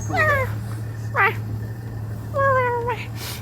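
A cheetah makes a few short, rising-and-falling cat-like chirps and yelps in three brief bursts, over a steady low hum of background noise, on a safari reserve near Cape Town.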